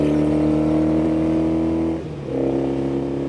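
A Norton Commando Fastback motorcycle from the first year of its rubber-mounted engine and exhaust runs loud and close with a steady, deep harmonic drone, briefly dropping off near the two-second mark before picking back up. No one speaks.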